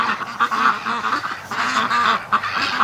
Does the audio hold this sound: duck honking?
yes